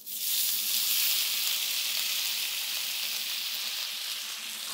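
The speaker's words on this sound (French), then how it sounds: "on va les faire dorer à la poêle. Donc j'ai chauffé un petit mélange d'huile et de beurre." Knepfle potato dumplings fry in a heated mix of oil and butter in a pan, giving a steady, close, bright sizzle that holds evenly throughout with no talking.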